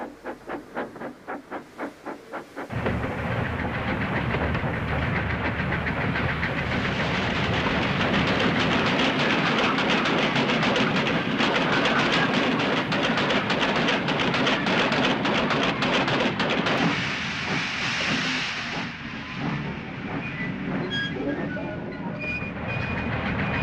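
A train rolls past with a rapid clattering rhythm at first, then swells into a loud, steady rumble and roar of wheels on track.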